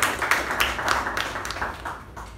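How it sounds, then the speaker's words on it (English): Audience applause at a Toastmasters club meeting: a steady patter of many hands clapping at moderate volume, fairly close, lasting a couple of seconds before thinning out. "Let's give a nice round of applause for our secretary for the day"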